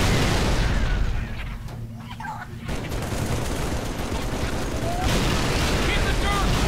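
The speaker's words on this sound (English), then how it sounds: "Grenade!" A grenade blows up in Halo 3: ODST amid heavy, continuous gunfire and roaring battle noise, loud and dense from start to finish, with voices shouting under the din.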